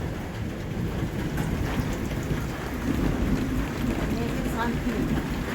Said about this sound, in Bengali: মেঘের একটা বাজ পড়ছে